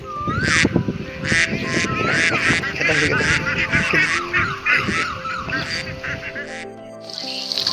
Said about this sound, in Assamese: হাঁহৰ জাকবোৰ এতিয়া আধাৰ খাবলৈ আহিছে।